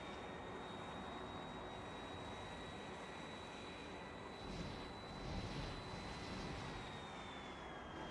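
An airplane engine in Factorio with the Sea Block mod, a steady droning hum with a thin sustained whine that swells slightly near the end, heard alone with no speech.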